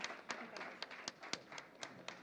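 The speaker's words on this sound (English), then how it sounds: "I would appreciate if you give a big clap for that." An indoor audience at a community cultural program claps for a clubhouse president. The applause is faint and sparse, with distinct individual claps spaced irregularly over a soft background.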